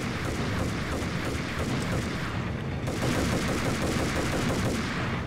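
Gunfire in the Max Payne video game: rapid, rattling bursts of shots with heavy low-end booms, continuous and loud across the whole stretch, with a brief lull midway and no speech.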